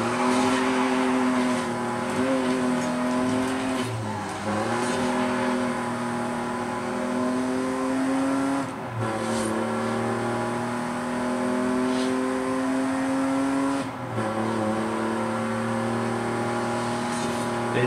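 A race car in Forza Horizon 5 roars at high speed, its engine tone holding steady with brief dips at gear shifts and braking, loud and continuous with occasional tire noise and no talk.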